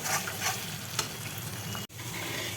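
Eggplant slices frying in a pan next to chicken being sautéed, a dense continuous sizzle close by with a faint spoon tap, no voices.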